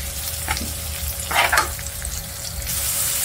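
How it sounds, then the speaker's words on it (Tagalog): Garlic and onion sauté in hot oil in a pan, a steady close sizzle with a few brief stirring scrapes and louder crackling bursts midway, no voices. "igigasan na natin ang ating bawang at sibuyas"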